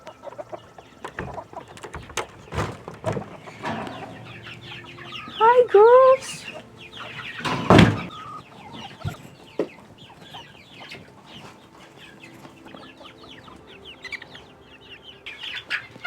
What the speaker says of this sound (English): These are our chicks.